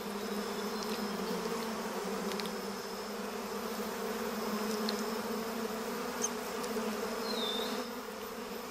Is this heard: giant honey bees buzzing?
yes